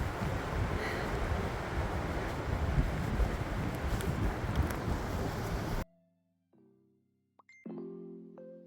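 Strong wind roars across a hiking trail on the Way of St James between Saint-Chély-d'Aubrac and Espalion, buffeting loudly and unbroken for about six seconds, then cutting to near silence with a few faint, brief tones.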